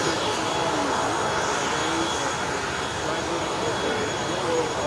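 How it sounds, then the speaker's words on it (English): An F-35 fighter jet flies over the Paris Air Show, giving off a steady, loud, broad roar that fills the whole stretch without letup. "there are fighter jets today. F-35, I believe."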